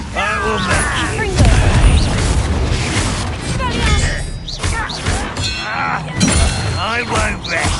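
A fire spell erupts with booming, crackling blasts amid chaotic combat noise in the Hogwarts Legacy video game, with loud impacts and shouting voices throughout.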